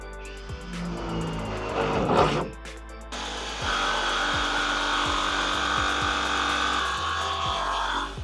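Metal file rasping along the bare-metal edge of a window cutout in a Ford Transit van body, steady gritty scraping strokes close by, with a brief pause midway before the filing resumes.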